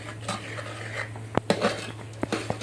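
A spoon stirs cooked, softened toor dal in a metal pot, with a few sharp scrapes and clinks against the pot over a steady low hum.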